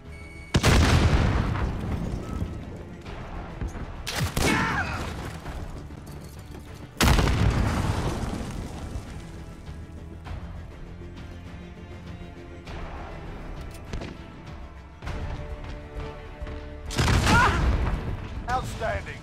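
Heavy grenade explosions and bursts of gunfire in the shooter video game Call of Duty: Modern Warfare (2019), with big booms recurring over a sustained din of combat.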